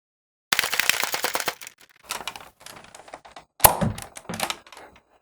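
A vintage Extreme Blaster toy gun is pumped in fast bursts of rattling plastic clicks and clacks, close and loud, separated by short pauses, with one sharper pop partway through.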